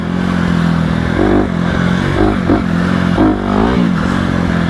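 A 2020 Honda CRF250RX dirt bike is ridden on trails with the rear wheel sliding. The engine pulls hard and revs rise and fall in bursts, mixed with clattering and scraping from the ground. No one speaks.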